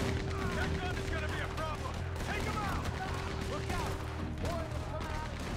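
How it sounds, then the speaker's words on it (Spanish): Machine-gun fire in Red Dead Redemption 2 rattles in dense, continuous bursts under a steady hum, with scattered shouting voices throughout the battle. "La ametralladora."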